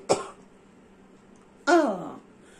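A short throat-clearing cough, then after a pause a longer, rough, groaning cough-like clearing of the throat, close and otherwise quiet.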